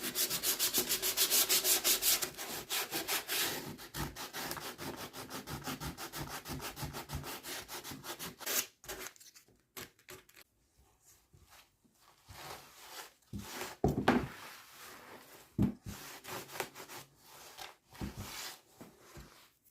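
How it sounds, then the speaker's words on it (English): Steady back-and-forth rasping of sandpaper on a wooden dollhouse porch, dense at first, then slower intermittent strokes with pauses, close and moderately loud. "I'm sanding down the porch first, getting the edges nice and smooth."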